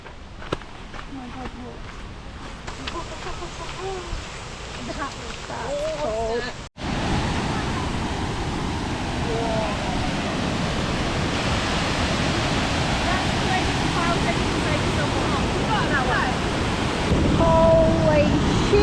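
Waterfall at upper Davies Creek gives a steady, broad roar of falling water, close and loud, that grows heavier after a brief cut midway, with faint voices under it.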